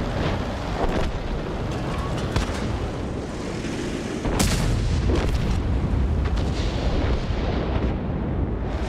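Artillery fire and shell explosions in the tank battle game World of Tanks rumble steadily, broken by sharp booming blasts, one heavy impact standing out midway. The sound is dense and continuous.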